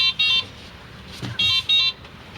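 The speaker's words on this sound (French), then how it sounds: "je vais mettre le bip bip pour faire entendre à tout le monde comment il est" Warning beep of a Renault Twizy 80 Technic electric car: four short, bright electronic beeps in two pairs, near and clear, with a soft low rumble between them.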